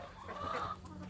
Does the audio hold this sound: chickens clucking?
yes